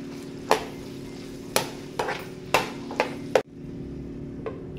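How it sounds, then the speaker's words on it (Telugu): Raw banana pieces stirred in a pan over a medium flame, a spoon scraping and clanking against the metal in about six sharp strokes over a steady low sizzle, with no talking. "ఇలా కలుపుకొని మీడియం ఫ్లేమ్లో పెట్టుకొని వీటిని కాస్త ఫ్రై అయ్యే వరకు మగ్గనివ్వండి."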